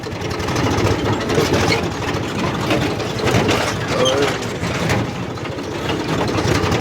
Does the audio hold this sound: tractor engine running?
yes